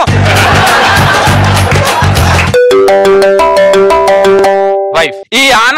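A mobile phone ringtone plays on a television comedy stage: a steady, melodic electronic tone sounds loud and clear for a few seconds, right after a burst of crowd laughter and noise.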